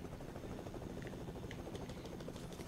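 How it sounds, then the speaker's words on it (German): A helicopter in the Fortnite video game gives off a faint, steady rotor thump, heard at a distance and holding constant for the whole stretch. "Hier soll irgendwo ein Heli sein? Ja, ich höre einen, aber wo ist der?"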